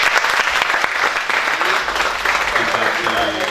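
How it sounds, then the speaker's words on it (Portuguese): An audience at a hip-hop lecture breaks into dense, steady applause that stays loud and continuous throughout, with faint crowd murmur underneath. "E merece mais palmas."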